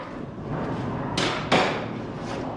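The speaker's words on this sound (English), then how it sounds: "We're gonna pull this in, and out comes the snap ring." A snap ring pops free of a 2001 BMW 325Ci rear wheel hub as it is pulled with snap ring pliers during a wheel bearing job. Two sharp, close metallic clicks stand out about a third of a second apart over quiet workshop background.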